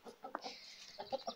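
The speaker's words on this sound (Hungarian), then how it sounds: "Ez hápogós kacsa, ez nem néma." A duck quacks in a garden with other poultry: a few faint, short, clipped calls in quick succession.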